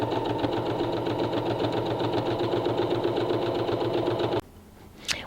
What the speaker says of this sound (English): we're going to sew pieces 1 and 2 together using a 1/4 inch seam allowance